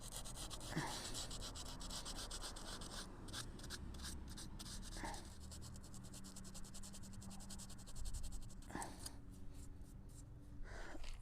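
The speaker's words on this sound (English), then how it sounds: "I'm just going to use this 150 grit sandpaper and just kind of smooth out the rough parts here" 150-grit sandpaper rubbed by hand over curb rash on a 22-inch Tesla Model X wheel: soft, close, continuous scratchy rasping with faint repeated strokes, fairly quiet throughout.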